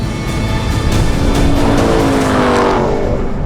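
A 777hp Ram TRX SRT and a 720hp Ford Raptor R drag race at speed, engines roaring loud and close with a rising, straining pitch and a faint tire squeal.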